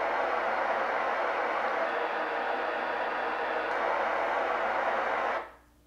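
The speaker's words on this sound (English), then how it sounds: "it's going to play the pink noise through" Steady, broadband hiss of a pink noise test signal from a home theater system, playing evenly for several seconds before cutting off abruptly.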